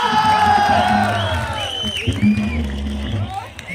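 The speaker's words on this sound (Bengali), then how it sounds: "এটা ছোট হাততালি হবে সবার জন্য" An audience cheers, whoops and claps for band members at a live music event, a lively crowd noise mixed with high shouts and chatter, fairly close and loud.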